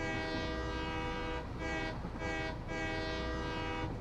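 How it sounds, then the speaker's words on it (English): Train horn in a video game, a loud sustained multi-tone blast sounded in several long pulses with short gaps, close and dominant over a low rumbling train. "I love the train horn."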